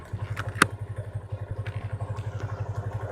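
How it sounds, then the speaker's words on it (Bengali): A motorcycle in first gear creeps forward slowly as the clutch is let out during a stunt-riding setup, its engine pulsing in a steady low, even thump with one sharp clack near the start. "ফার্স্ট গিয়ার দেওয়ার পর এই ক্লাচ ছাড়লে দেখবেন আপনার বাইকটা আস্তে আস্তে মুভ করে"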